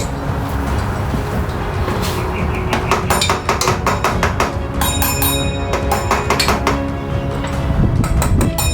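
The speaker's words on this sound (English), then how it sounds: "So let's see if we can tap it with something" A tool taps repeatedly on the starter of a cheap, stuck Harley-Davidson Ironhead Sportster, producing sharp metallic clinks in quick bursts with short pauses, close up over a steady low background hum, no speech.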